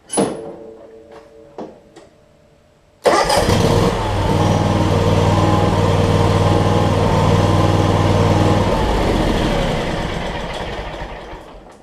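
John Deere X300 riding mower with its fuel pump pushing gas, heard as a loud steady engine drone that bursts in after a few quiet knocks and runs on unchanged, with no talking.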